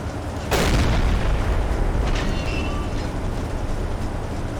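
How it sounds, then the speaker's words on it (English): Deck-mounted flak gun on a U-boat fires in the Silent Hunter 3 naval combat game, one loud sharp blast followed by a long rumbling roar and steady background din. "flak gun, you are free to fire at will"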